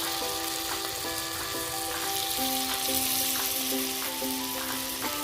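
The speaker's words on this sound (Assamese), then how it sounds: "তেল গৰম হৈ গৈছে আৰু এয়া মই চামুচৰে এনেকৈ সৰু সৰুকৈ" Crab pakora batter dropped by spoon into hot oil in a kadai gives a loud, continuous crackling sizzle with bright bubbling, the frying sound filling the whole stretch.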